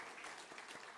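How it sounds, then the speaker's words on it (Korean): A church congregation at a Sunday worship service applauds together, a dense, steady wash of clapping filling the whole second with no break. "우리 크게 박수하겠습니다"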